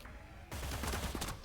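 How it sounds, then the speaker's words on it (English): Gunfire in the tactical video game Cyber Knights: Flashpoint starts suddenly as a quick, dense burst of shots that ends abruptly, quiet and heard alone. "So, more gunfire reported."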